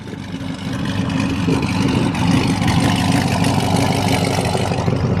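A Ranger utility vehicle's engine runs hard in a steady, loud, close drone that lasts for several seconds without a break.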